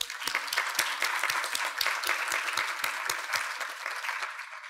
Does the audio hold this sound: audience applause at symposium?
yes